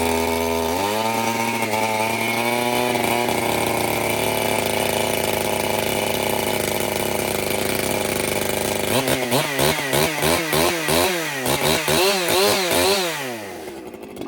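An ECHO chainsaw engine sputters to life and settles into a loud, steady idle, then revs up and down in a series of rising and falling bursts near the end.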